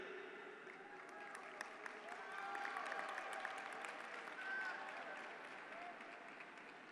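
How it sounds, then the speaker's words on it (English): Faint, distant applause from a commencement audience, a soft continuous patter of many hands with murmuring voices mixed in. "There was definitely more applause than the amount of people that were with us in Vienna."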